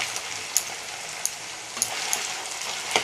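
Homemade potato chips sizzle and crackle steadily in hot oil, with a few sharp clinks and scrapes of stirring at intervals and no voices.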